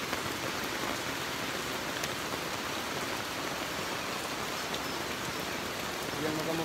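Heavy rain pours down in a steady, dense hiss with no breaks, heard fairly close for the whole stretch.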